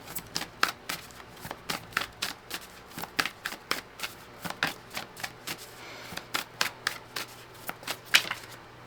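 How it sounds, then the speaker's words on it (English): Oracle cards being shuffled by hand in repeated quick riffling bursts, a steady rhythm of sharp papery flutters at close range with no talking. "let's pull some oracle cards"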